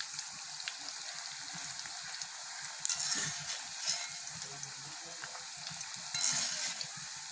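Onion pakoda crackle and bubble in hot oil in a dense, steady sizzle, with faint clinks and shifts as the fritters are turned over.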